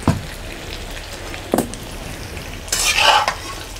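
Stuffed bitter gourd (karela) fries in oil on a tava while a utensil scrapes and stirs in a few bursts over a soft, steady sizzle; close, with no talking.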